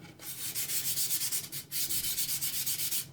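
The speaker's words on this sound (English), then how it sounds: "So I'm gonna sand it down using this 180 paper, sandpaper." Rapid rhythmic strokes of 180-grit sandpaper rubbing along the grain of an IKEA Effektiv cabinet, about a dozen back-and-forth passes, a brief pause, then another steady run of scraping.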